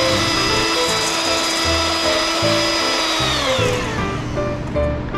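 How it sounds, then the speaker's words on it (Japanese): Electric hand mixer whipping four egg whites into stiff meringue: a steady, loud motor whine that drops in pitch partway through as the mix thickens, with no talking. "卵白4個分をハンドミキサーで泡立てます。"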